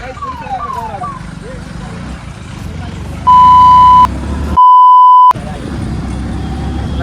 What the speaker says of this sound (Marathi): ॲम्ब्युलन्स नाही पोलीसची गाडी आहे भैया